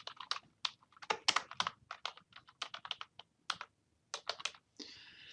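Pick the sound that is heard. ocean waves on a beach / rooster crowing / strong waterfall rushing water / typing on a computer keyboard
typing on a computer keyboard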